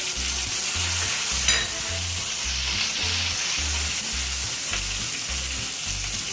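Coriander and cumin paste frying in a pan for a paneer tomato curry gives a loud, steady sizzle, with a regular low throbbing pulse underneath throughout and no voices.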